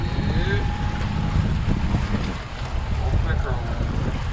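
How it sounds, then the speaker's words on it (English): Wind gusts across an open stretch of water near a boat in a no-wake zone, a steady broadband rush with low rumble that stays loud throughout, with no talking. "Wind's picked up out here, eh?"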